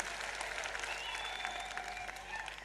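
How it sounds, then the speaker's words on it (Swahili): A crowd applauding at a UDA Women Congress at Bomas of Kenya in Nairobi: sustained, fairly distant clapping that continues evenly, with a faint whistle-like tone running through it. "Wapigieni makofi tena"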